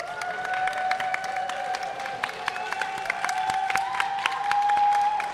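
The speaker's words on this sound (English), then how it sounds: "Wonderful crowd making a lot of noise for our contestants here." Tournament crowd at a historical fencing event with longsword, sword and buckler, and messer bouts, applauding steadily and cheering in a large hall, with a faint commentator voice underneath.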